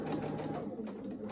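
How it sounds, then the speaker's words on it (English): Sewing machine back stitching a fabric scrub cap, a close steady rapid stitching whir running continuously through the short moment. "I am going to go ahead and do a little back stitching to secure that"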